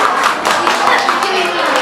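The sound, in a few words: audience clapping hands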